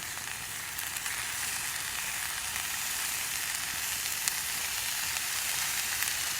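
Ground beef and onions fry in a pan as trail food, a steady, even sizzle that holds at one level throughout with no talking.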